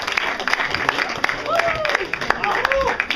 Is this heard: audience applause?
yes